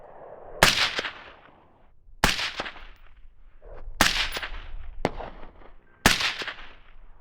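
Five sharp rifle shots of .223 varmint rounds ring out outdoors during a coyote hunt. Each loud crack is spaced about a second or more apart, and the shots decay quickly between faint background sounds.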